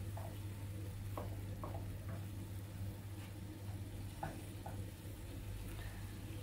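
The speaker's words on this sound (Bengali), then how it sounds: "আমি সবজিগুলো মশলার সাথে আমি লেড়ে চেড়ে আমি ঢাকনা দিয়ে ঢেকে রান্না করব" Vegetables with spices being stirred in a pan while cooking, a low steady sizzle with several soft scraping stirs at irregular intervals, close and quiet under a constant hum.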